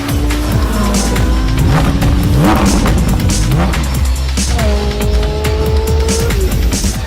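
A Ferrari 458 Italia sports car engine revs loud and close, rising and falling in pitch with repeated gear changes, accompanied by tire squeal and skidding.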